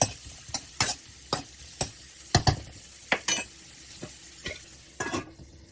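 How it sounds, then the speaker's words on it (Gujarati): Repeated scraping and clattering of a spoon stirring onions sautéing in a pan, in short irregular bursts over a soft background hiss of frying. "હવે આમાં ડુંગળી નાખી દઈશ અને એને મિક્સ કરીને થોડી વાર શેકાવા દઈશ"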